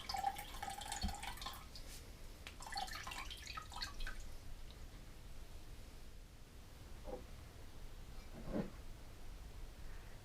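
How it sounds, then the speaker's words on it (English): Apple-beet juice drips slowly out of a squeezed nut milk bag, a few faint, scattered drops and trickles over a quiet background hiss. "begin squeezing the bag to separate the juice from the fiber."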